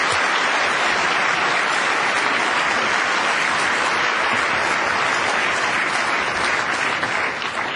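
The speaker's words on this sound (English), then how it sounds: "Would we applaud our distinguished guests today?" A large audience applauds distinguished guests at a county address, loud and sustained clapping forming a dense, unbroken wash that holds steady throughout before easing slightly at the very end.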